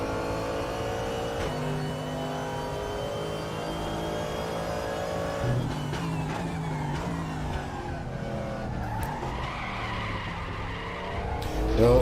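A race car in the RaceRoom racing game tears around Laguna Seca on a qualifying lap, its engine droning steadily with shifting pitch, tires squealing and skidding through corners and revving up sharply near the end.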